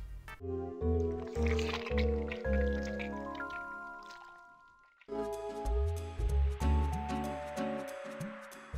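Watery squishing, dripping and liquid sloshing effects from the Wii game Fluidity, set over melodic game music in two continuous loud passages with a brief dip between them.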